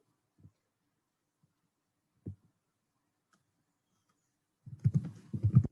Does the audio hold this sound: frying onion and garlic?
no